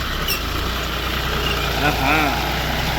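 A modern paddy rice transplanter's engine runs steadily in a rice field, a continuous loud mid-to-low drone with faint voices beneath it.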